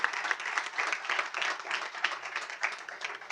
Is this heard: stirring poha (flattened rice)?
no